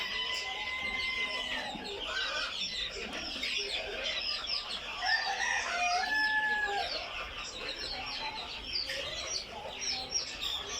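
Young quail chicks kept warm in a brooder under a canopy, chirping constantly in a dense, close chorus of shrill peeps with no pauses.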